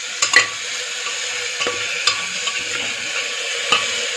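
Boiled chicken with coriander and a bowl of water stirred in a pot, a soft simmering hiss punctuated by several sharp clinks and scrapes of the spoon against the pot.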